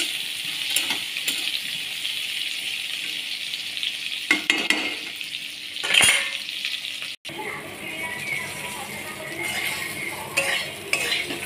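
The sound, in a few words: pointed gourd curry frying and stirring in pan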